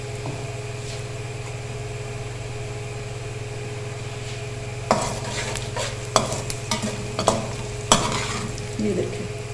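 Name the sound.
onions and rice frying with salt in a pot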